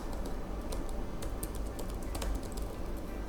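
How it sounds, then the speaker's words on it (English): Quick, steady typing on a computer keyboard, with close, crisp key clicks in an irregular stream over low background hum. "I'll just type that."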